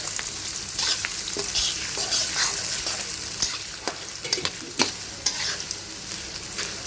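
Dried fish pieces fried with garlic in oil, giving a continuous close sizzle with frequent clattering stirs and scrapes of a utensil, and no voices.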